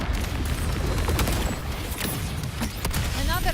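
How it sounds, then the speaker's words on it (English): Mortar blasts and gunfire from the video game Wuthering Waves, a dense, continuous barrage of layered explosions and shots with no quiet gaps, loud throughout. "Another mortar thrown at us."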